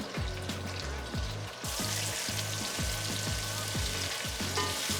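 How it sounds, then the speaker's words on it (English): Water at a rolling boil in a small pot gives a steady, close bubbling and popping with a continuous sizzling hiss and no voices. "Once your water is boiling,"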